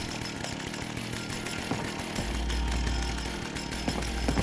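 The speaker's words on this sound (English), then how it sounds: "The annoying guy with the chainsaw" Chainsaw in the video game Fallout 76, a harsh buzzing drone that grows louder and heavier partway through, running continuously with rough rattling texture and no talk.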